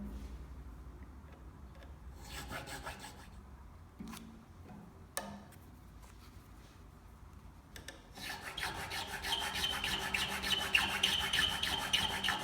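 Slots are filed into a guitar nut, giving a dry, steady rasping rub with short pauses and a louder, denser stretch of filing toward the end; no one speaks.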